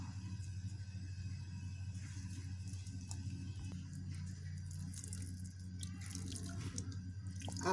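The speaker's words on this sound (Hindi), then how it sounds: "आप जो ये फर्स्ट बार पानी दे रहे हैं मनी प्लांट को" Water is poured onto a money plant growing in a small basket, giving a faint, steady trickling and dripping over a low hum, quiet and continuous with a few brighter splashes toward the end.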